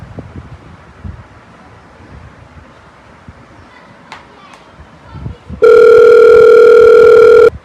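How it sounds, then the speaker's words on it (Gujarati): Outdoors, wind and rustling give way to a loud, steady telephone dial tone that starts abruptly near the end of the call attempt and holds unbroken until the cut. "ફોન કરી દેવા દે મને"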